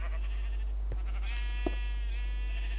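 Sheep in Minecraft give a wavering bleat midway, with a second faint bleat and soft game sounds around it against a low steady hum.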